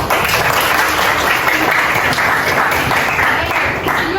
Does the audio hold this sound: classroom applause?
yes